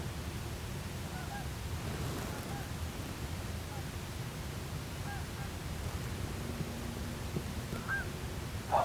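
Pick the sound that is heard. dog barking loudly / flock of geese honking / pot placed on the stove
flock of geese honking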